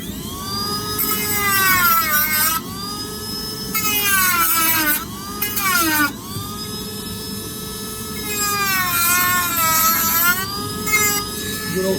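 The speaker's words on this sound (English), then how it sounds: "Good old Milwaukee Dremel. Love this thing." A Milwaukee rotary tool whines at high speed, its pitch rising and falling as it bites into a factory car door panel during a tweeter install, running in several loud bursts with short pauses between.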